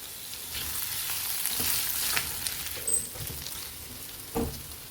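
Grated ginger frying with ingredients in a pan under continuous stirring, a moderate sizzle punctuated by a few sharp spatula scrapes and knocks, close by and without speech.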